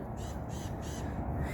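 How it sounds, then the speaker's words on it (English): A titmouse squawks from a tree, giving harsh, rapidly repeated calls in several evenly spaced bursts over a constant outdoor background. "It sounds to me like a titmouse."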